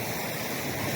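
A small creek in Talladega National Forest flows with a steady, full rush of water heard close by over a short moment.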